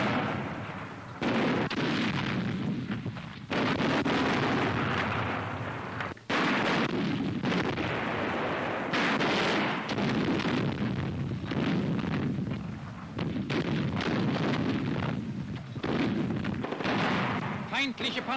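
Flak artillery from a WWII German newsreel firing on enemy tanks near dense forest: a sustained barrage of loud, booming blasts and crackling reports, with a narrator's voice speaking over the gunfire.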